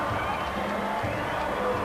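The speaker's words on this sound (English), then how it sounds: "playing for this home crowd, which is giving them tremendous support" Home crowd at a 1998 NRL rugby league match between the Cowboys and Broncos in a stadium, a steady roar of cheering and shouting spread wide and unbroken, with commentary faintly mixed underneath.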